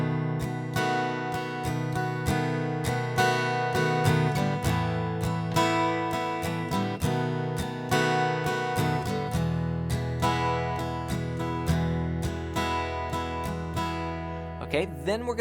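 An acoustic guitar strums the chords of a song in a steady repeating pattern, close and clear, alone without any talking.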